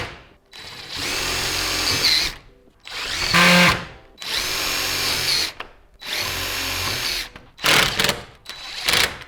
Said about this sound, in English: we're just going to go ahead and put tap screws straight along the bottom retainer